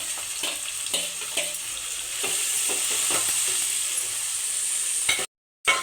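Green chillies, onions and tomatoes fry in a pan with a bright, steady sizzle, punctuated by scraping stirs and light clatter, ending with a brief silence and one more clank.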